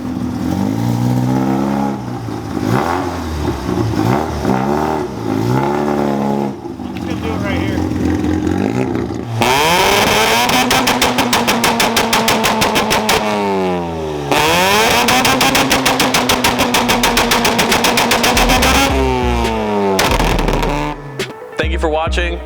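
A Mazda RX-7 FB rotary on its two-step launch control, held at high revs with rapid crackling pops and sweeping rev changes, loud and close, with voices heard during the pauses.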